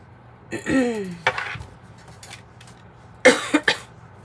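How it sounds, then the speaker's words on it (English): A few coughs and throat sounds in short bursts, close by, with a couple of sharp hacks near the end separated by quiet pauses. "I cough as I say that."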